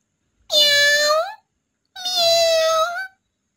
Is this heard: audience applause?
no